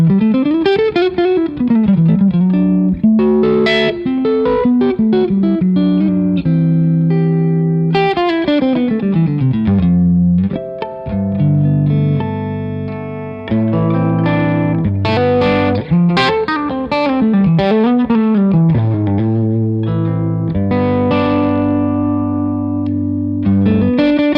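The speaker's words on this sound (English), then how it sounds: "The ZIO also has a studio mode, which is modeled after a Pultec EQ." Clean electric guitar played through a ZIO boost pedal in its studio mode, modeled on a Pultec EQ, with sustained chords and melodic runs that ring steadily and fairly loud, with no talking.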